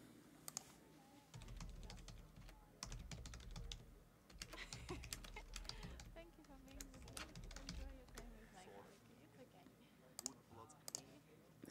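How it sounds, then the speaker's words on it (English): Typing on a computer keyboard, a quick irregular run of close clicking keystrokes that continues through the clip, with a voice talking over the clicks at times. "Not used to this keyboard. Don't do much typing with this one."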